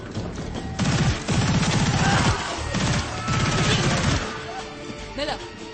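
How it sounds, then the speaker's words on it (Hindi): Rapid bursts of automatic gunfire crackle through an action-movie firefight, loud and dense with short pauses between volleys, under shouting voices and clattering impacts. "गोली चलाओ।"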